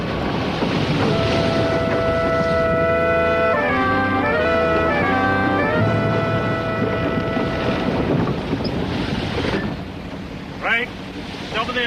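Fishing boat engine running at sea, a steady droning hum with tonal harmonics under wind and wave noise, then easing off near the end with faint voices.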